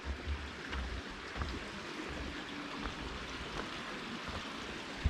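A creek flowing beside a campground, giving a continuous soft broadband rush of moving water with low rumbling swells, faint and unbroken with no talk.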